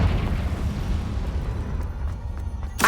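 Confringo spell blast in Hogwarts Legacy, heard as a dense, rumbling explosive roar lasting throughout, with a sharp burst near the end.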